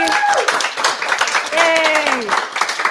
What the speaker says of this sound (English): Everyone, huge big round of applause.